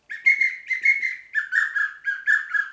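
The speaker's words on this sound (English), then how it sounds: "but this is really a pintail call." A pintail duck call with a roller ball is blown in a quick series of about eight close, bright whistled chirps, grouped in short bursts with brief gaps between them.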